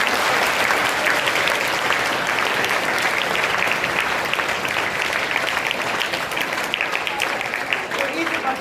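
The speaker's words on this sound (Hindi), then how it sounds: "एक बार इसके लिए जोरदार ताली हो जाए।" Seminar audience applauding loudly with dense, sustained clapping that fills the whole stretch without letting up.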